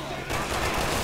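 Dense, continuous enemy gunfire from Resident Evil 6 Remastered's Mercenaries No Mercy mode on PS4, a loud sustained barrage of rapid shots filling the whole moment with no break.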